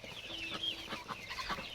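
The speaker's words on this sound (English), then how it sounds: "Cochins are the friendliest chickens in the world." Friendly Cochin chickens clucking in a backyard flock, a few soft, irregular clucks and murmurs close by against a steady outdoor background.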